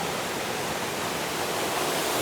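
A small waterfall hidden in a forest near Lipa City, Batangas, pouring as a steady, close, broadband rush of falling water with no break.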